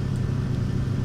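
Jet engine number two spooling up on an English Electric Lightning in Flight Simulator X, a steady, loud low rumble with a sustained hum, continuous and unbroken throughout.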